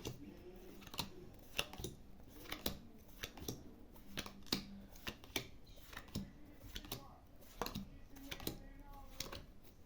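Uno playing cards being dealt out by hand close up, a string of crisp card slaps and flicks landing in a quick, uneven rhythm over a quiet room.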